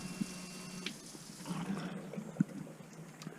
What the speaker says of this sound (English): as you can see, this is a fully functional shower